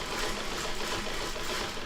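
A domestic sewing machine stitches quilt fabric at slow speed while the presser foot is tapped, giving a steady, close, buzzing mechanical whir with no voices.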